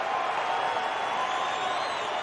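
Steady, dense roar of a large baseball stadium crowd at an Angels game in Anaheim, continuous and loud throughout with a broad wash of voices and faint cheering, no distinct commentary on top.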